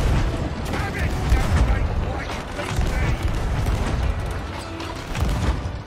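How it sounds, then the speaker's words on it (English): Heavy booming blasts of ship cannon fire in a Sea of Thieves video game battle roll continuously, dense and loud, with a voice talking underneath the barrage. "I rained down on them with cannon fire"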